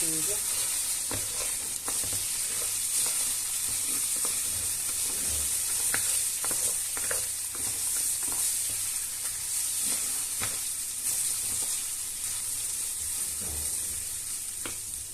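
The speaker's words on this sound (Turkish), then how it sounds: "Pirincimizi de aldım tavaya. Şöyle bir iki döndüreceğim." Rice toasting in a hot pan for pilaf, a loud, continuous close sizzle with a bright steady hiss, broken by soft scraping strokes of a spoon turning the grains.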